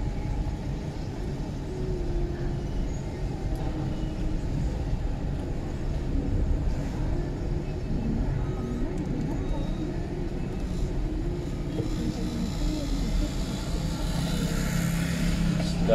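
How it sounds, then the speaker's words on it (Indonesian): Night traffic drifts along Jalan Nusantara in Makassar, a steady low rumble of passing cars and engines throughout, while a voice talks over the street noise. "Situasi lalu lintas lancar"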